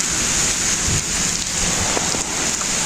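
Heavy rain pours outdoors in a dense, constant roaring hiss close to the listener, with low rumbling buffets underneath and no talking.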